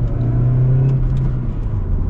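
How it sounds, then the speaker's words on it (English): A supercharged 2.4 liter engine in a Chevy Cobalt SS hums steadily from close by, a continuous low rumble carrying a faint whine above it, with no talking. "And you get a little bit of supercharger whine."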